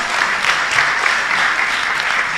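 Steady, even applause fills a general-assembly hall for a delegation of members of parliament, a continuous wash of many hands clapping without pause, fairly loud and with no voices on top.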